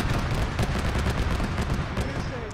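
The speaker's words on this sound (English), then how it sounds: "Dolan, it's not mortar fire. It's the BTR 80 Alpha." A BTR-80A armored vehicle's autocannon fires in a video game, a dense, continuous run of rapid heavy booming shots with a rumbling low end throughout.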